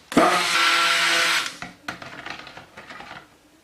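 A stick blender whirs loudly for just over a second mixing soap batter with lye water, then stops, followed by scattered knocks and scraping against a container.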